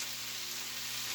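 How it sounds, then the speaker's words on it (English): Butter, bacon and vegetables sizzling in a pan, a constant bright crackling hiss with a low steady hum beneath, close and even. "And we've still got our sizzle going."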